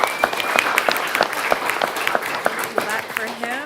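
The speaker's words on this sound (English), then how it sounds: "Clap for him." Applause from an audience at a city council meeting for a second-place elementary school award winner, steady clapping filling the room at moderate level, with a voice speaking over it.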